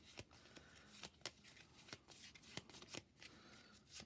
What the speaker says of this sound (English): I'll go ahead and shuffle those up